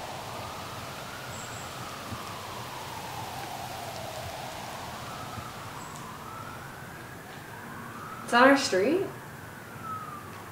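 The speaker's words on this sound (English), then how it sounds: "We're hearing sirens, and we've only ever heard sirens once here." A distant emergency siren wails up and down steadily over hurricane rain and background hiss at a cabin, with a brief burst of nearby talking near the end.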